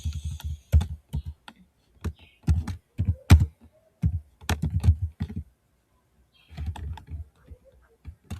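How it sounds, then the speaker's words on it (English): Someone types on a computer keyboard in irregular bursts of crisp key clicks, close and clear, with short pauses between runs. "So I'm typing this now."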